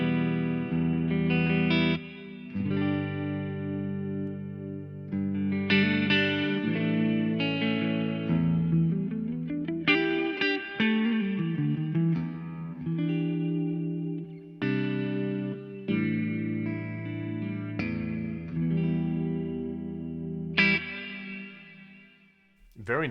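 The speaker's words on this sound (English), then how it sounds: "And there is a modulated reverb" Electric guitar played through a modulated reverb on a Mooer GE300 Lite multi-effects unit, sustained chords and lines washing into a shimmering, wavering tail, continuous and full, with no talking.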